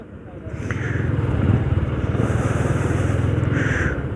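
Motorbike ridden on a winter night with the turn signal on, its engine droning steadily and close throughout, with a rough, continuous rumble and a faint clicking layered over it.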